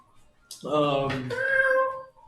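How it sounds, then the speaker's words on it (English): A small house cat meows loudly and close by, one long wavering call of a couple of seconds that rises and then bends down, heard alone in a quiet room. "Little cat jumps up on the table."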